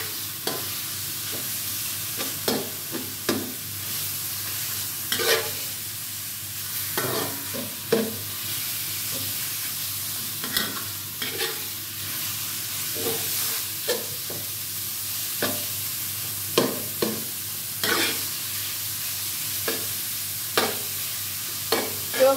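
Minced pork and water spinach are stir-fried in a hot pan, steady sizzling broken by repeated sharp scrapes and clanks of the spatula tossing the food, close and fairly loud, with no talk.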